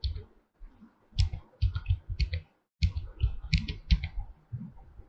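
A computer keyboard typed on in short bursts of crisp, near clicks with brief pauses between groups of keystrokes, with no one talking.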